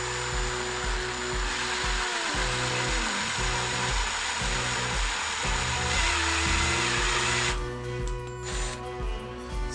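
A drill bores through the thick cast iron exhaust manifold of a VW Golf MK2 being fitted with a turbo, giving a steady, loud grinding whine with pitch wobbles that shifts in tone near the end.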